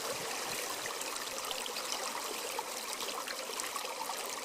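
A cool stream flows steadily outdoors, a constant broadband rush and trickle of running water, fairly close and unbroken throughout with no voices.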